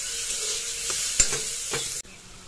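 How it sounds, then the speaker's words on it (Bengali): Potatoes frying in a pan with a sizzle while a spatula stirs and scrapes them in a few distinct knocks, before the sound cuts off abruptly. "এই যে ফুলকপিগুলো আমি আগে ফার্স্ট ভেজে নেব, তারপর আলুগুলো ভাজবো।"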